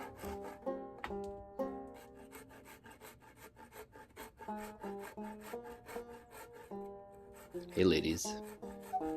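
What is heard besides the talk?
grinding shavings off wooden gourd banjo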